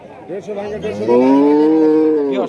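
A dairy cow with her calf lets out one long, loud, close moo at a busy village cattle market, the call swelling then tailing off, with faint crowd murmur behind.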